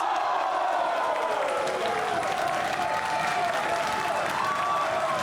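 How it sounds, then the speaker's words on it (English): A wrestling arena crowd roars and cheers continuously, a loud, dense wall of rumbling voices and applause with a commentator talking faintly underneath. "Now you can hear the rumbling in the crowd."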